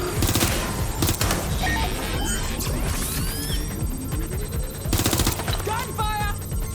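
Video game gunfire in Watch Dogs, dense rapid bursts of automatic shots crackling over a busy game soundscape, loud and near, with a few sharper volleys toward the end.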